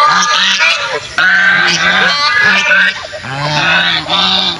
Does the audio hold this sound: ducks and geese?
yes